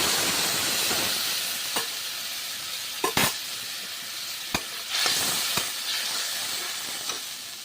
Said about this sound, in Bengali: ভালো করে এখন ভেজে নিলাম।